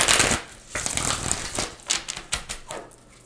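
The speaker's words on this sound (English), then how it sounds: "I do always like to give a few good shuffles on camera" Crisp riffling and snapping of tarot cards being shuffled by hand, several quick bursts of flicking close to the mic with no talking.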